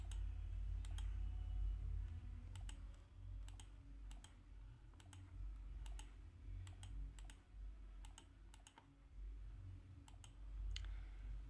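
Quiet, sparse keystrokes on a computer keyboard, isolated clicks and short bursts of taps spaced irregularly over a low background hum.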